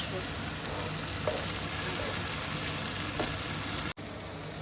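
Carrots stir-frying in a pan for Chinese fried rice give a steady, close sizzle with occasional scraping stir sounds, continuous throughout with one brief dropout near the end.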